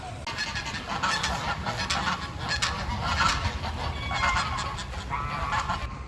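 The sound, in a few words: geese honking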